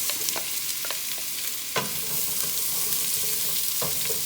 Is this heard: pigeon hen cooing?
no